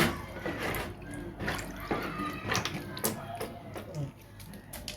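Ingredients being washed by hand in a bowl of water while cooking a Nigerian dish, with close, soft splashing and dripping in an uneven rhythm throughout.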